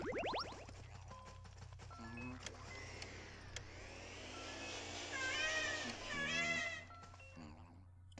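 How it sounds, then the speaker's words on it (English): A ghostly cat meowing in the Luigi's Mansion 3DS game, several rising, warbling cries over a low electronic hum and scattered game effects, fairly quiet. "It kind of sounds like Flinchy, the cat that we had."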